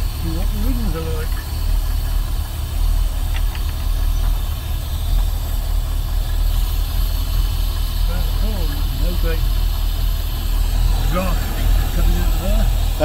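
A Rover P6 V8 automatic idles steadily nearby with a deep, even rumble, its recent fuel filter trouble now cleared, while people chat intermittently over the engine.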